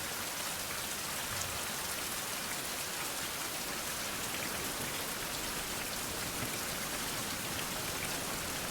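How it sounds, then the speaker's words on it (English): Steady rain pours across the whole stretch in a 16th-century survival game, a dense, even hiss of drops hitting surfaces with no pauses, no thunder and no voices. "it only just started raining"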